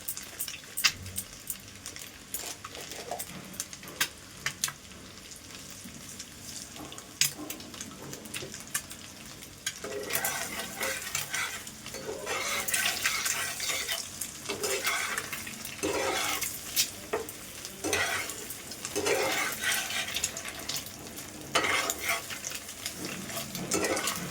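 Eggs for a poppy-seed dim bhapa fry in oil with turmeric, Kashmiri chili and salt, giving a steady sizzle broken by repeated spatula stirs and scrapes that grow busier in the second half.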